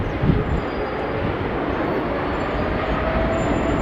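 A Kenya Airways Boeing 787-8 taxiing out at London Heathrow, a steady, broad engine roar and rumble holding level throughout with no pauses.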